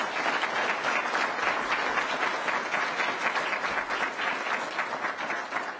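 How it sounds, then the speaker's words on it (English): Sustained audience applause for six hall of fame inductees at a modeling and simulation awards evening, steady dense clapping that fills the room without a break. "So one more round of applause for all 6 individuals."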